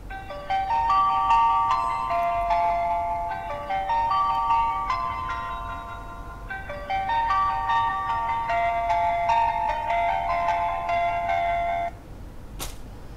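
Startup tune of a Detel D1 budget mobile phone powering on, a clear electronic melody of bright repeated tones in several phrases, loud and close, ending with a short click.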